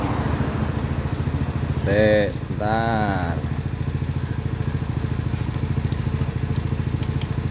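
The engine of a Honda Tiger motorcycle, just repaired, idles steadily nearby with a rapid, even putter. Someone briefly speaks over it.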